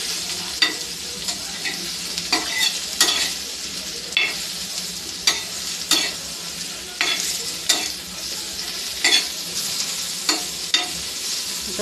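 Bitter gourd fries in oil while a utensil stirs it, with sharp, regular scrapes against the pan about once a second over a continuous sizzle, close and fairly loud.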